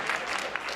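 Audience applause at the White House Correspondents' Dinner, a short patter of clapping from a large seated crowd, moderately loud and steady for under a second with no distinct voices.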